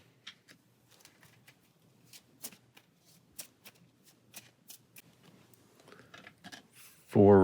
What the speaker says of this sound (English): So randomly, we'll just shuffle one of these back into our deck.